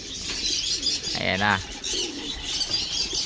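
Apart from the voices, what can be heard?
pigeons cooing and flapping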